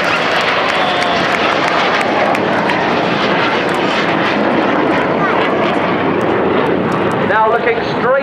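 Red Arrows display jets roar overhead at the Bournemouth Air Festival, a loud, continuous, broad jet rush that swells and shifts as they pass. Crowd noise and a commentator's voice run beneath it.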